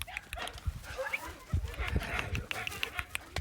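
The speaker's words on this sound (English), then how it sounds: "They're beautiful dogs." Greenland sled dogs outdoors in a windy, snowless setting, giving short yips, whimpers and scattered barks at close to moderate distance, faint overall with brief human speech mixed in.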